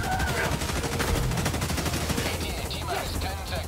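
Sustained rapid gunfire from a squad fighting robots in Helldivers 2 forms an unbroken, dense rattle of overlapping automatic shots. Voices are faintly mixed in beneath the fire.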